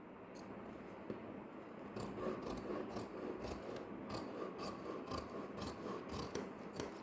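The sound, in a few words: scissors cutting canvas cloth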